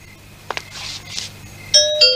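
A doorbell chimes at a family home. Soft knocks and faint rustles come first, then two bright electronic ding tones ring out close and clear, with no talk.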